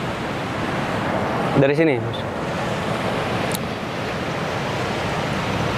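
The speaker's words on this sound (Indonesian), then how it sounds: "Ombak jadi bergejolak langsung, bisa dilihat tuh." Waves surge onto a south coast beach in a continuous loud wash of surf with wind buffeting the microphone, and a person briefly speaks over it.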